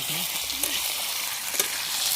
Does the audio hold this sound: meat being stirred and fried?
yes